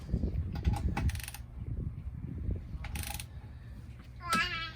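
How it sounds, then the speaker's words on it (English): A torque wrench tightens side mirror bolts on a Polaris 1000, giving short clicking ratchet bursts close by, spaced out between quieter low handling noises, with one sharper metallic click near the end. "We do have a torque wrench over here"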